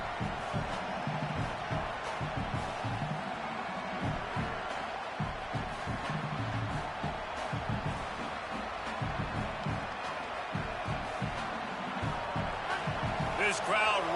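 A football stadium crowd rising into a loud, sustained roar and cheer as the home defense defends near the goal line, a dense distant wash of voices under steady play-by-play commentary.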